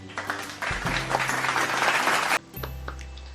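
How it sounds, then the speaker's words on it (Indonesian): Students in a classroom clap for classmates who answered questions, a short burst of fairly soft applause lasting under two seconds, with a hum in the room. "kita berikan tepuk tangan kepada teman-teman kalian yang telah menjawab pertanyaan-pertanyaan tadi"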